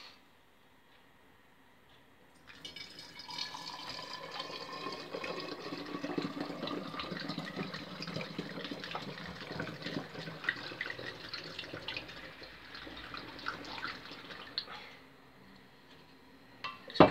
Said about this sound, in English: see if you can see it froth, assuming it does, as I pour it in.